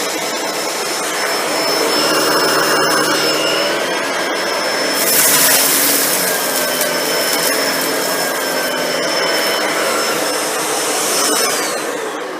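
Shark NV801 upright vacuum cleaner runs steadily with a loud whining motor roar and rushing airflow, pitch shifting slightly as it is pushed and pulled over the floor, with a brief louder surge midway.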